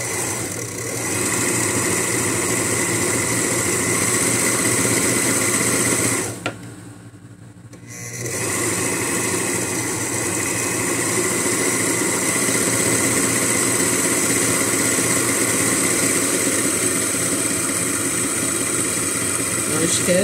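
An overlock sewing machine finishes the seam of a skirt with a loud, steady mechanical whirr up close. It dips briefly midway and then resumes running continuously.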